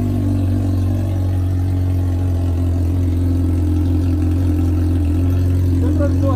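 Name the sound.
Honda Hornet motorcycle engine revving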